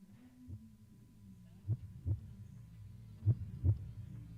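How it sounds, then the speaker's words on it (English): Heartbeat in the Z.A.T.O. video game thumps as two soft, low double beats over a quiet droning hum, with no speech. "There's a heartbeat."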